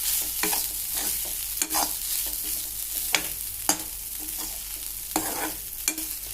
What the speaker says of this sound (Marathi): पोहे थोडे मिक्सअप करून घेऊ. थोडेसे हलवून घ्यायचे.